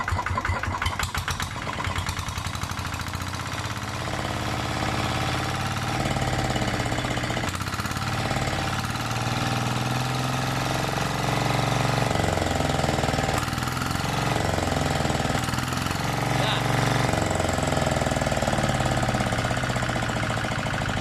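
A Kubota engine runs steadily with a loud, constant vibrating drone and rattle throughout, close up, with an irregular clattering start at the beginning and no speech.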